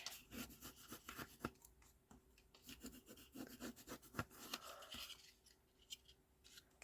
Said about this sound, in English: Give that really good burnish.